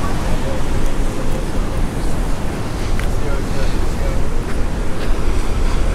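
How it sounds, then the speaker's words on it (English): Large ocean waves break and surge steadily around a long fishing pier, a loud continuous roar of surf mixed with wind buffeting the microphone. "Surfers are out, waves are huge"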